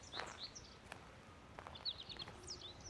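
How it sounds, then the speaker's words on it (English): Faint, high chirping notes from a small songbird drift in from a distance, coming in short bursts over quiet outdoor background. "I hear another warbler."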